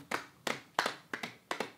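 Hands clapping close by in a small informal group, about five quick sharp bursts, each a doubled clap, spaced evenly across under two seconds with no talk.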